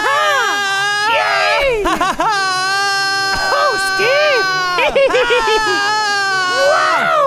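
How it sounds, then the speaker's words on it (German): A group of children screaming and shrieking together at a German children's show, loud overlapping high-pitched cries rising and falling in bursts, mixed with an adult voice speaking briefly. "Wow, gut geschrien."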